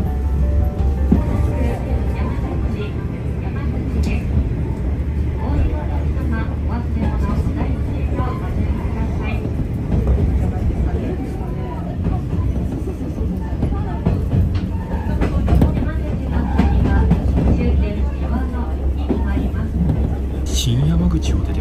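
Aboard a Yamaguchi Line train running at a leisurely pace along a long stretch between stations, a steady low rumble of wheels and carriage fills the whole span, with faint knocks and rattles over it.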